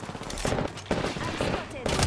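Gunfire in an Apex Legends-style battle royale game: loud, close bursts of rapid automatic fire in several bunched volleys with short gaps between.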